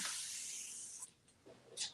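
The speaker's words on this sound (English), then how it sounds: "I'm gonna spray the other side" Furniture being spray painted during a messy makeover: a long steady hiss of spray for about a second, then a pause, followed by shorter, softer bursts close to the microphone.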